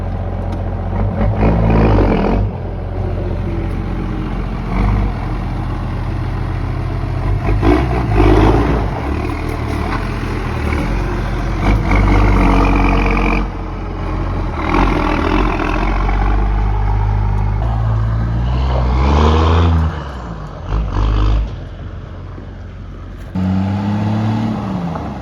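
A first-generation Cummins turbo diesel truck engine runs loud and close for the whole stretch, with a steady low rumble that swells in several revving surges, plus occasional clatter.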